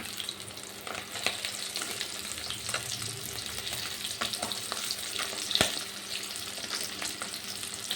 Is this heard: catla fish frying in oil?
yes